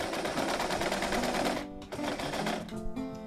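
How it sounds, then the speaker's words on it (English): A sewing machine runs steadily with a fast mechanical whir, briefly pausing then starting up again in shorter bursts, close by. "the sewing machine that I use for almost all of my work"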